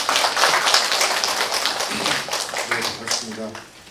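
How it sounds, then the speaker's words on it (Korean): An audience at a village-development forum claps to welcome a guest lecturer. The scattered clapping is fairly close and strongest at first, then thins and fades toward the end. "임병수 박사님을 큰 박수로 환영해 주시기 바라겠습니다."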